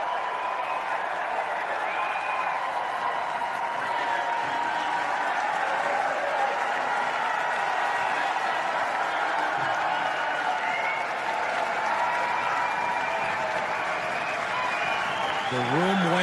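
A packed room at an Alberta independence rally keeps clapping and cheering for a long stretch, a dense, unbroken roar of applause and crowd noise with a voice briefly heard over it near the end.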